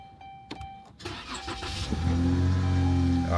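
A 2014 Cadillac at an auto auction cranks with a few clicks and ticks, then its engine catches and settles into a steady, fairly loud idle close by, with no one speaking.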